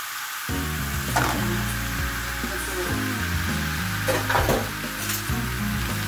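Shrimp paste (bagoong alamang) with ketchup sizzles steadily in a pan, close and continuous, while a utensil stirs it with occasional scraping bursts.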